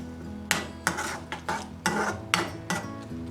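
Garlic curry being stirred in a pan as the cooking ends: a run of separate metallic scrapes and clinks of a spoon against the pan, about seven strokes at an uneven rhythm, with only a faint sizzle underneath.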